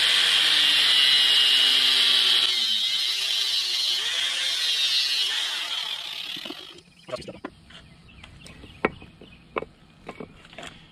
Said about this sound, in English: I don't have bolt cutters handy, so we're using our grinder